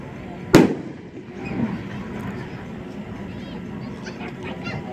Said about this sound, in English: Red and blue peonies, raw, red apple firework.